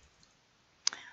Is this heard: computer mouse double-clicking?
yes